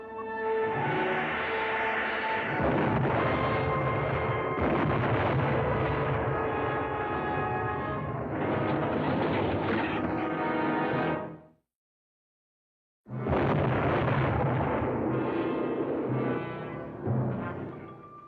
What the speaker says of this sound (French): Les torpilles approchent toujours. Parez à une explosion.